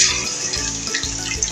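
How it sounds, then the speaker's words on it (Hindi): Water pours steadily into a cooking pot on a low flame in a home kitchen, a continuous close splashing gush that runs throughout without any talk. "सबसे पहले मैं इसमें पानी डालूँगी।"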